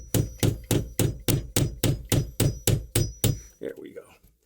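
Hammer driving a nail into an old drywall patch: about eleven sharp, evenly spaced strikes in a steady rhythm, loud and close, ending with a few softer handling sounds.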